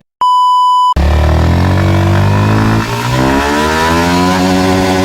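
A short steady electronic beep gives way to a Yamaha XSR 155 motorcycle accelerating hard in first gear, the engine note climbing steadily and loudly close by, with a brief dip partway through before the revs keep rising.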